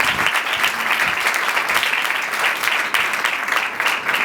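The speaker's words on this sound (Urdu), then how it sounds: "ہمارے یسوع مسیح کے لیے زوردار تالی بجائیں گے۔" Steady, vigorous applause from a congregation at an evangelistic gathering, continuous clapping throughout with a faint voice underneath.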